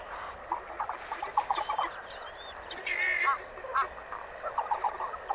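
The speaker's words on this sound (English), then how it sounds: "a group of helmeted guinea fowl that are passing through" A group of helmeted guinea fowl passing through lion country give repeated rattling, cackling calls at a moderate distance in quick uneven bursts over a quiet outdoor background.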